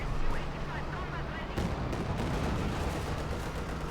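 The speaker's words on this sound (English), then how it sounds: "Katyusha fire catches all of Leng Mo's infantry bunched up" Katyusha rocket artillery in Company of Heroes 2, a dense rumbling barrage of launches and impacts with a sharp burst partway through, loud and continuous, under a voice speaking over it.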